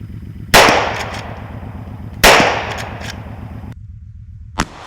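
Two loud, sharp gunshots a couple of seconds apart during a hunt, each with a long fading tail, over a steady rhythmic background, followed by a fainter short crack.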